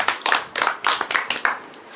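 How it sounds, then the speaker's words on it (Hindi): A small audience claps for a contestant in a Hindi idioms quiz game, with several short bursts of clapping in quick succession, close and fairly loud, fading toward the end. "उसके लिए एक बार तालियां बजाएगी।"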